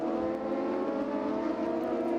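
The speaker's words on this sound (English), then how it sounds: "lap traffic comes on through" Race cars in lap traffic streaming past at a Gridlife Rush SR Series race at CMP, a steady distant engine drone with whirring tones, fairly faint and unbroken.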